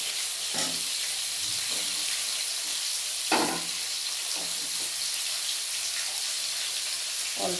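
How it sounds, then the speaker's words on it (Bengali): Potatoes fry in oil that was just used for frying fish. The sizzle is steady and close, broken by occasional stirring clinks and scrapes. "আলুগুলো ভেজে নেব"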